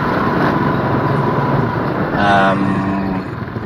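A 2020 Yamaha Nmax scooter riding along a road, with a steady engine drone and wind roar throughout and a brief passing vehicle tone in the middle, heard close to the rider.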